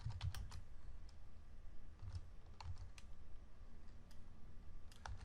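Typing on a computer keyboard, a quiet run of uneven key clicks and taps in bursts, close and alone with no voice.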